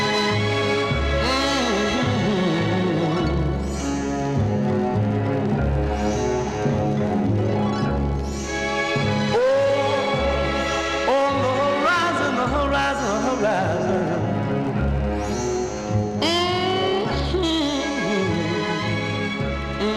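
A 1961 soul song, a B-side, plays from a vinyl record, with steady full-band music, a pulsing low beat and a singing voice continuing loudly throughout with no talk over it.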